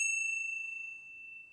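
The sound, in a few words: bell ringing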